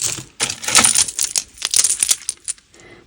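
Small plastic jewellery beads clattering and rattling close by in several quick, busy bursts, then thinning out into a few scattered clicks.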